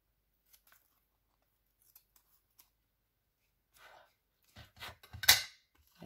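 Scissors cut paper cards for a Memorydex, starting with a few faint isolated snips and building to a cluster of louder, close crisp cuts near the end.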